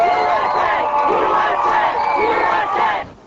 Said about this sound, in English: Almost 5 million in New York cheer the triumph of Operation Desert Storm.